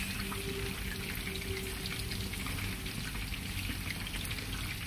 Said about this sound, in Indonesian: Sebelahnya aku goreng ayam guys, karena udah tengah hari ya